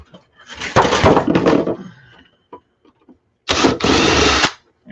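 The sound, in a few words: power drill drilling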